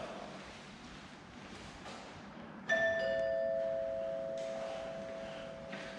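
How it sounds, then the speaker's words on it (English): A cheap doorbell rings once after its button is pressed, giving a thin two-tone chime that hangs and slowly fades over a faint background hiss. "Sound like a cheapy doorbell."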